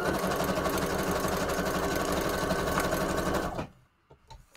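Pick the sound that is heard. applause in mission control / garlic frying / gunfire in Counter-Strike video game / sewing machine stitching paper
sewing machine stitching paper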